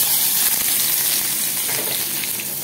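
Black cumin seeds sizzle in hot oil with garlic, onion and green chilli, a loud, steady, close hiss that runs unbroken throughout with no voices.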